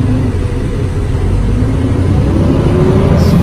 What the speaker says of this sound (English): See if I can drop it down in fifth gear here.